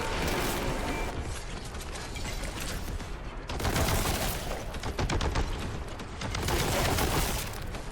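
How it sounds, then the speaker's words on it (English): Rapid, continuous gunfire from the Warhammer 40K: Boltgun video game, loud and dense, with clanking mechanical weapon sounds layered through the bursts and no pauses. "who is shooting at me?"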